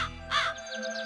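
A cartoon crow gives a single harsh caw, close and clear, followed by a few fainter chirpy tones trailing off.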